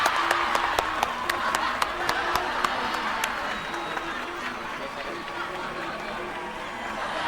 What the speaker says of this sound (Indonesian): Tepuk tangan, tepuk tangan semua, tepuk tangan.